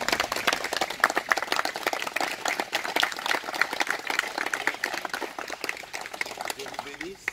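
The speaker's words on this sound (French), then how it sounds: "Est-ce que nous pouvons acclamer?" Wedding guests applauding in a crowd, steady dense clapping running the whole time with a voice speaking over it.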